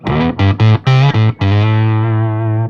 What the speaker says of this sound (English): You still hear the guitar, but I guess the octaver is kind of dominating.